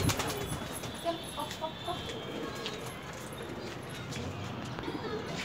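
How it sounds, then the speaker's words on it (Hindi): Two captured pigeons coo softly in low, intermittent calls beneath a steady background of noise, with no clear voices over them. "ये देखिए वो दो कबूतर ये है जिनको अब हम दिखा रहे हैं"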